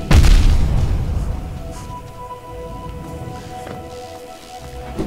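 A large enemy bursts apart with a single loud boom when struck in Hollow Knight's Fog Canyon. A faint, steady ambient hum and soft tones follow it.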